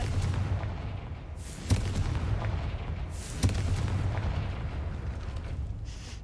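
A Confringo fire spell in the Hogwarts Legacy video game explodes with sharp booming blasts, two strong hits a couple of seconds apart over a rumbling low background, followed by a softer burst near the end.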